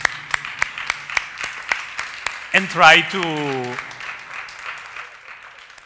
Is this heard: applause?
yes